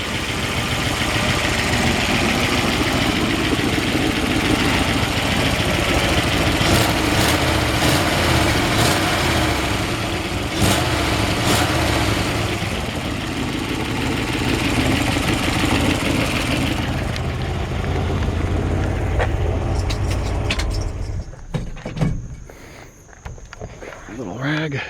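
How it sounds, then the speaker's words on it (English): A 1963 Ford F-100 engine idles steadily with a small exhaust gasket leak on a pipe, a loud, even rumble close by with brief clicks and handling noises, then it cuts off near the end. "just a little bit of a exhaust gasket leak on this pipe."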